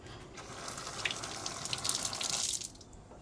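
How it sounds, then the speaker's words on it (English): A tomato rinsed under a running kitchen tap, with a steady close stream of water splashing over it for about two and a half seconds before the flow stops. "And I have to rinse this tomato."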